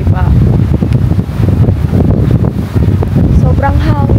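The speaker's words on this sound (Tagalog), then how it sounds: "Sobrang hangin" Heavy wind on Rottnest Island, Western Australia, buffets the microphone in a constant low roar, with a voice speaking briefly beneath the gusts.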